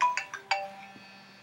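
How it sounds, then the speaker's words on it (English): A phone rings with a quick run of bright electronic chime notes, three or four in succession, then a soft sustained tone trailing off in a quiet room. "Our phone's ringing."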